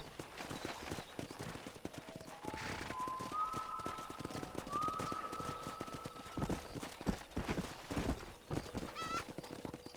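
Rapid hoofbeats clatter as a pack of wild horses gallops close by in the video game Red Dead Redemption, with a drawn-out whinny rising over the rhythmic clip-clop and some rustling movement.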